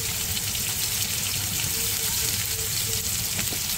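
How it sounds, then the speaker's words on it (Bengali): Tomato frying in a pan with salt as it is stirred: a steady, close hiss of sizzling runs without a break, with faint scraping and watery bubbling underneath. "লবণ দিলে টমেটোটা একটু নরম হয়ে যাবে। একটু নাড়াচাড়া দিয়ে দিচ্ছি।"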